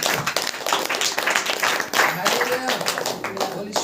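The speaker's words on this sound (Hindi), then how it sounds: "आइए अपने स्थानों पर खड़े हो जाएंगे, ताली बजाकर परमेश्वर को धन्यवाद देंगे।" A church congregation at a Saturday prayer meeting claps together to give thanks to God, a loud, dense, steady burst of hand-clapping that fills the room, with voices mixed in.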